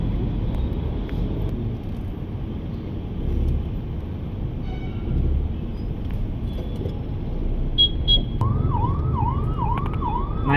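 Ambulance siren in Bangalore traffic, starting late and rising in a repeating wail over steady engine and road rumble, with a brief horn-like tone just before it.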